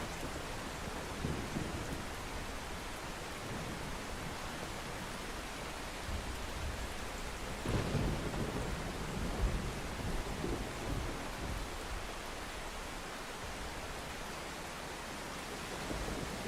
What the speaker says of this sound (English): That beautiful storm.